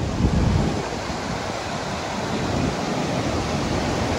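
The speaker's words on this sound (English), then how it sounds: "dog jumping in the water at the top of the waterfall." Water rushing steadily at the top of a waterfall on the Sturgeon River in Temagami, a dense, continuous roar close by, with a dog jumping into it and no clear separate splash standing out.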